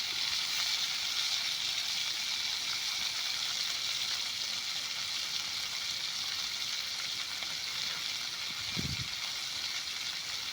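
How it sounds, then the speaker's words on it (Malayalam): Pieces of fish fry gently in a pan, giving a steady, even sizzle that fills the whole stretch, with one soft low bump near the end. "നമുക്കൊന്ന് പതുക്കെ ഒന്ന് വറുത്തെടുക്കാം"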